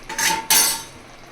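A utensil stirs dry fruits in a pan for double ka meetha, giving two bursts of scraping and clinking against the metal. The sound is close and clear, with no voice.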